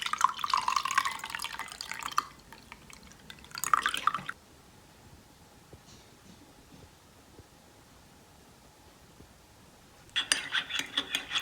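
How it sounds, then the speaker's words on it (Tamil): Hot turmeric milk drink poured through a strainer, giving two bursts of close trickling and dripping liquid, a long quiet stretch, and then more straining near the end. "வடிகட்டிடலாம்."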